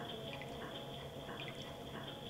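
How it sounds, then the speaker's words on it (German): Water flows through pipes in the video game Zelda Majora's Mask 3D, giving a steady trickling wash with soft drips and splashes, continuous and moderately loud with no talk. "Dort fließt Wasser hindurch, im Roten allerdings nicht."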